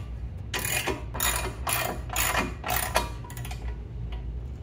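Ratchet wrench tightening 14 mm bolts during assembly of a Ryobi RM480EX 38-inch electric riding mower: five or six quick bursts of close, crisp clicking, each a short run of pawl ticks, then a couple of faint clicks trailing off.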